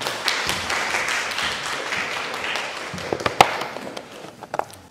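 Audience at an academic conference applauding to welcome a speaker, a scattered clapping wash that thins and fades out toward the end.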